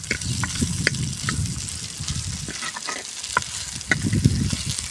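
Onions and green chillies frying for sambar, browning in a pan with a steady close sizzle, broken by frequent scraping stirs and clinks of the spoon.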